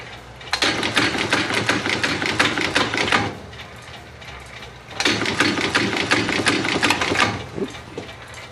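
A sewing machine stitches leather in two loud, close bursts of rapid mechanical chatter separated by a short pause, with no talking.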